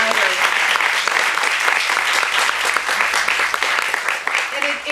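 Sustained, dense applause from a storytelling event audience fills the room at steady volume, with a voice speaking briefly at the start and again near the end.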